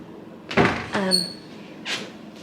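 A wardrobe door in a hotel room in Bahia Feliz, Gran Canaria, is pulled open, a short creak with a squeaky tonal scrape, followed by a brief soft rustle.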